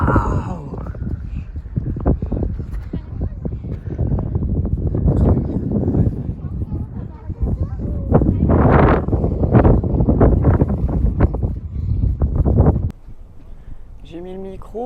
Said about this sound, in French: vous allez entendre beaucoup le vent parce que il y en a